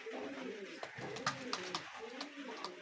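Pigeons coo repeatedly at a busy pigeon market in Khalishpur, Khulna, where Cobra Teddy birds are on show, with soft throaty calls rising and falling over a low crowd murmur and scattered sharp chirps.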